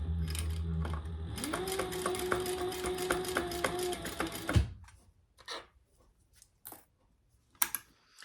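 Sewing machine chain stitching fabric pieces for a shoulder bag, a fast close mechanical whir with rhythmic needle clatter for about four seconds that stops abruptly, followed by scattered light handling clicks and rustles.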